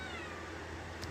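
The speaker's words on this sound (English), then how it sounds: "if you hear my cat meowing" Cat meowing indoors, a faint, drawn-out meow in the background beneath a low steady hum, with no talk over it.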